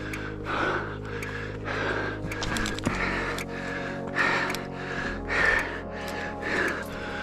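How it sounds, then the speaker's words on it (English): Heavy, labored breathing of a hiker climbing the steep Gunnison Route in Black Canyon of the Gunnison National Park, rhythmic gasping inhales and exhales close to the microphone with footsteps and gear rustle beneath. "Breathing heavy."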